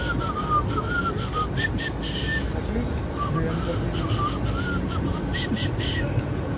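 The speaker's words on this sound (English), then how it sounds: "bad whistle. Out of tune." A person whistles a wavering, off-key tune in short phrases on an evening street walk between Columbus Circle and Penn Station, New York City, over steady traffic and city background noise.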